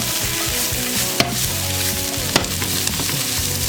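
Mushrooms, quartered artichokes and Anaheim chili pepper sizzling steadily in a hot pan, a close continuous hiss with a couple of sharp stirring clacks.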